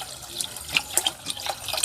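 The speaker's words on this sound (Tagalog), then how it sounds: "Lagyan ng tubig." Water is poured into a cooking pot for corn rice, a light, steady splashing trickle with small drips, close by and moderately quiet.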